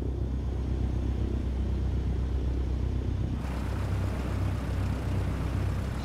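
A Cessna 172 engine at full takeoff power in Microsoft Flight Simulator 2020 gives a steady, loud, low droning roar that thickens with more broadband noise partway through, with no talking.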